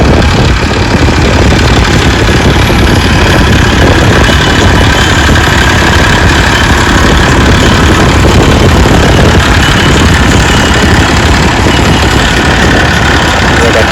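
A tractor engine runs in a farm field, producing a loud, close, continuous rumbling chug with no pauses for the whole stretch.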